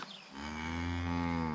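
A cow on a farm gives one long, loud, close moo that rises in and holds steady for over a second, with no voices over it.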